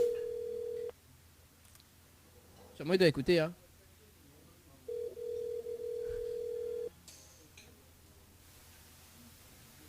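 Telephone call placed during a live broadcast from a hotel: a steady ringback tone, a rapid warbling burst of tones, then another long ringback tone, with a voice talking briefly between them.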